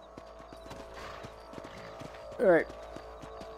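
Horse hooves clopping in the Red Dead Redemption video game, a soft steady rhythm under faint in-game ambience, with someone briefly speaking and a louder sweeping burst near the end.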